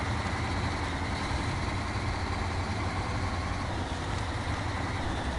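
A truck engine idles in the SnowRunner video game, a dense, steady low rumble with constant hum and no breaks, close and loud throughout.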